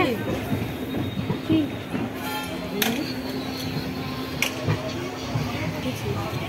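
A train pulling out of Howrah station and rolling along the rails, with a steady low rumble, a sustained wheel tone and sharp metallic squeals and clanks, as voices chatter nearby throughout.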